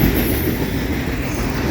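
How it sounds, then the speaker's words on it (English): A CSX autorack freight train rolls past close by on the Old Main Line, a loud, dense rumble of wheels on rail with some metallic squeal. "Oh, I see a Conrail autorack."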